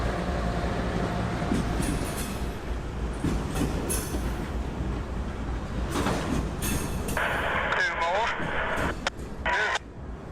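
CSX locomotive 1871 leads a northbound local freight on ACL trackage, a steady loud rumble of engine and rolling wheels with squealing rail tones near the end, close by.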